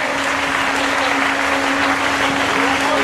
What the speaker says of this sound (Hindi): झांझ पर हमारे छपरा से आए हुए श्री भगत जी, तालियों से स्वागत, तालियां रुकना नहीं चाहिए